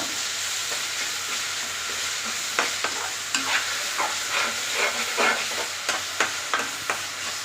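Steady stirring of ginger garlic paste in a hot pan for fish curry, a spoon scraping in irregular strokes over a soft background sizzle, no voices.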